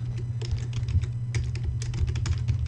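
Rapid typing of code on a computer keyboard, a steady close-up stream of light key clicks with a few heavier taps, heard alone without talk.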